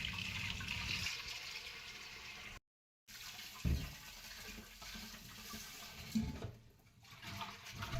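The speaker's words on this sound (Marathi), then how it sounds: "दोन ते 3 पाण्याने मी याला स्वच्छ धुवून घेते." Water sloshes and pours inside an old clay water pot as it is rinsed clean, a steady splashing wash with a brief gap, a louder slosh near the middle and another toward the end.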